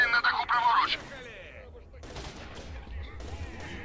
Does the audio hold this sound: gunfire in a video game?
yes